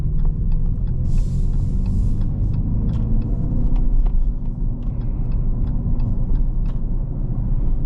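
Inside an electric Dodge Charger Daytona cruising on the highway, a steady low road rumble and tire noise fill the cabin, with scattered light clicks and knocks and no speech.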